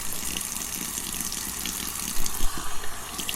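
Water runs steadily from a bathroom tap into a sink while the face is wetted before shaving, a continuous close splashing stream with a few louder gurgles toward the end.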